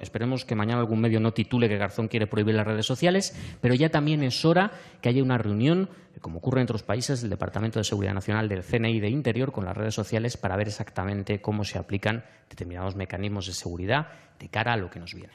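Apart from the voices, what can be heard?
No distinct noise like a dog, phone or traffic.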